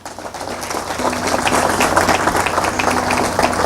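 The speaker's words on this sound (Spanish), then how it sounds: "Yo quiero que le den un fuerte aplauso a Adolfo." An audience claps for artist Adolfo Farrington at a Holocaust commemoration event, warm applause swelling within the first second and holding steady over a low background hum.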